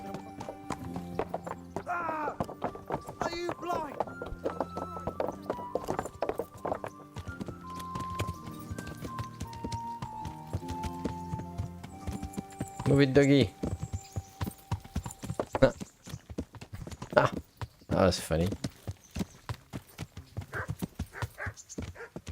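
Horse hooves clip-clop in Kingdom Come: Deliverance as a rider travels, a steady trot with a whinny and a dog nearby, heard under game music and intermittent talk.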